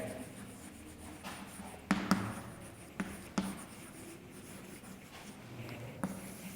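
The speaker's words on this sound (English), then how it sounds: "So first of all, we will write first answer." Pen strokes of handwritten answers on paper, soft scratching with a few sharper taps, close and quiet with no talk.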